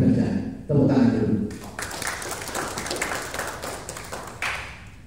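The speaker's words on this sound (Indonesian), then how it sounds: "Tepuk tangan dulu." Applause at an installation ceremony for a provincial health equipment association board in East Kalimantan, scattered clapping spreading through the room after a spoken line, continuing steadily and moderately loud.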